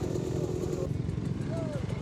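A motorcycle engine runs on a dirt trail, a steady close drone throughout with a voice talking over it.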